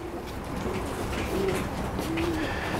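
A Teddy pigeon coos softly a few times in short low phrases, close by over a steady background hum.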